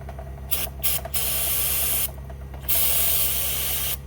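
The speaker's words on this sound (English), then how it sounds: "we're going to spray that connector with brake clean" Loud, steady aerosol brake cleaner spraying onto an electrical connector in several bursts, a few short and two longer, over a constant low hum.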